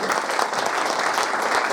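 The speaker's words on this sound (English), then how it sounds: "A little round of applause for that" A crowd at Play Expo Blackpool, a retro gaming event, gives a short burst of applause, a steady wash of many hands clapping close and even throughout.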